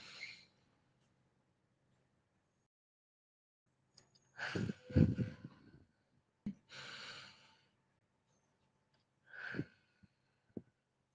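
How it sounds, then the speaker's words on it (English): Slow, deliberate breaths drawn and released during a guided count-of-four breathing exercise, each inhale and exhale a soft airy rush separated by quiet holds, close to the mic with no talking. "Inhale for 4, hold for 4, exhale for 4."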